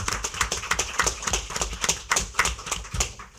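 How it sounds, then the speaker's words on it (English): A few people clapping at a school board meeting, giving a round of applause for parents. The claps are sparse and distinct, sounding near and individually audible, with no talk over them. "could you give them a big round of applause?"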